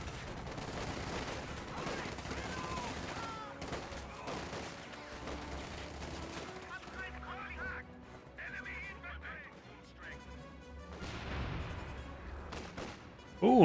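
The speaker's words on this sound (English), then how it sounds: "Volks Grenadiers and Fallschirmjägers firing away" Gunfire in the video game Company of Heroes 2, with Volksgrenadiers and Fallschirmjäger infantry firing: continuous distant rifle and machine-gun volleys crackle under battlefield noise, easing midway before a louder burst at the end.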